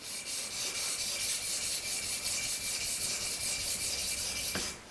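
A kitchen knife is sharpened on a whetstone, with steady rhythmic rasping strokes of steel on stone that run close and fairly loud, ending in a brief click.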